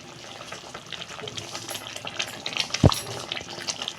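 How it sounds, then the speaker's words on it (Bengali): Fish being added to spiced oil in a pan: soft, steady frying and sizzling with a short loud clunk near the end, quiet and close, with no talking. "আমি মাছগুলো দিয়ে দিচ্ছি।"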